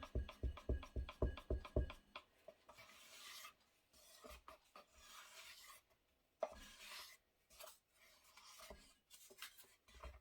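A stick stirs a can of dark gray paint, starting with a quick run of rhythmic scraping strokes, then slower wet rubbing and swishing against the can, close up with no speech.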